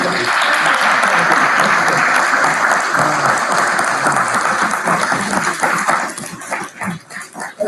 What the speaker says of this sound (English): one more giant round of applause for Jason